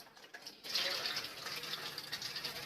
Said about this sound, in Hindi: देखिए पानी इसमें शामिल कर रही हूँ।